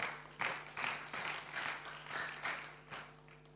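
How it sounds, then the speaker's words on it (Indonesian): A small audience at an Indonesian youth investment talk event gives faint, sparse applause, with several soft uneven bursts of clapping rising and falling over a few seconds. "Tepuk tangan buat Melody teman-teman."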